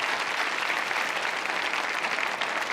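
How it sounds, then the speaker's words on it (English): A comedy club audience gives dense, sustained applause, steady and close throughout the short stretch. "You can clap for them."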